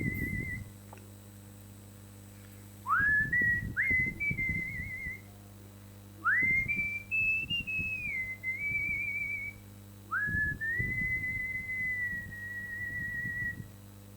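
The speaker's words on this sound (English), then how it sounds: "So this is just humming, well, whistling." A person whistles a short melody in several phrases, with sliding notes and sustained tones, fairly close and clear over a steady low background hum, with no speech.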